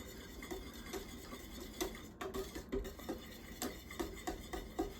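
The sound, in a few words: whisking heavy whipping cream in a bowl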